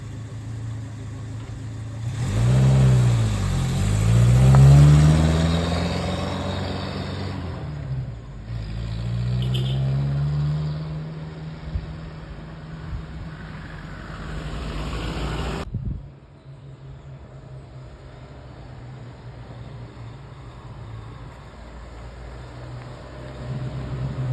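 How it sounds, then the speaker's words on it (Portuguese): A Ford Maverick drives around with its engine revving up and down as it passes, loud at first, then settling to a lower steady drone as it moves off. "Agora a gente vai ver a Nídia dando uma volta com o carro."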